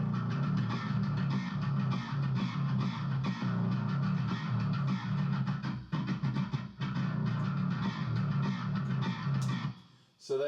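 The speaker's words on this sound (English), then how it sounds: "this is the kind of bass tone we can get." Bass guitar tuned to drop A with loose, floppy strings, recorded direct and through a SansAmp, playing a dense, gritty run of low notes for about ten seconds before stopping with a brief scrape.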